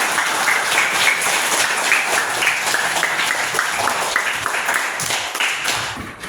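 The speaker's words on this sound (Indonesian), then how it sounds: "Kasih tepuk tangan dulu." Schoolchildren in an elementary classroom clap together in a dense, lively burst of applause that stays loud and even for several seconds before tapering slightly at the end.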